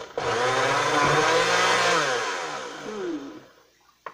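A food processor pulsing blueberry pie cookie dough, its motor whirring loudly for about three seconds, then winding down and stopping abruptly.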